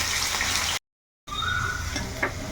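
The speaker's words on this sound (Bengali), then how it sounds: "তো এখন আলুগুলো এই তেলের মধ্যে একটু লাল লাল করে ভেজে নিই।" Small diced potatoes sizzle in hot oil in a pan, a steady loud frying hiss broken by a brief silent gap, with a faint clink near the end.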